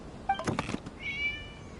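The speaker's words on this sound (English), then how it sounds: "It was just a cat." A cat meows in the video game Genshin Impact, a short close cry followed by a thin drawn-out higher mew, fairly faint with no talk.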